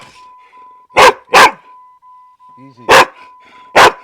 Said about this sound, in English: Anyways, there's a puppy dog.